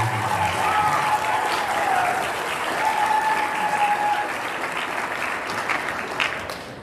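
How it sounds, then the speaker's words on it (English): Warm round of applause from an audience at a Community 4 Unity opening ceremony, continuous and fairly loud clapping that carries evenly for several seconds with a faint tonal hum beneath, easing slightly toward the end. "let's give Mira a huge round of applause right now"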